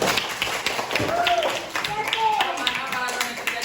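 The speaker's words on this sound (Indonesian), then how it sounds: "Tepuk tangan untuk dia." Students in a classroom applaud a classmate with a short round of scattered hand claps, moderately loud, mixed with voices chattering over it.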